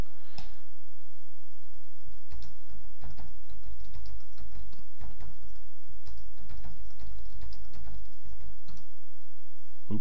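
Someone types on a computer keyboard, a fast, uneven run of close, crisp key clicks and taps lasting several seconds with no talking.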